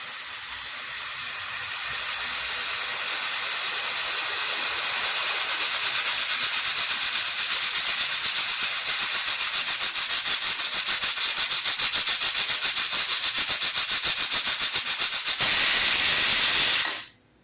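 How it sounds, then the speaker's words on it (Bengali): Spices for ghugni ground by hand on a grinding stone: a steady, close rhythmic rubbing and scraping that builds in loudness over the first few seconds, then continues evenly with a fast stroke pattern before stopping abruptly. "আর এবারে আমি মশলাগুলো বেটে নেব।"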